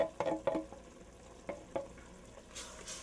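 Tomato puree gets mixed into a quick sauce with a few soft, scattered stirring and scraping strokes against the pan, faint and close, ending in a light hiss.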